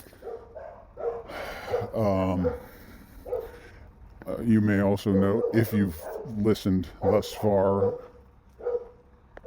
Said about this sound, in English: you've heard dogs barking many times